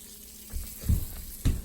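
Burger patty sizzling in a frying pan, a steady close crackle with a few soft thuds and bumps from the pan or spatula, no talking.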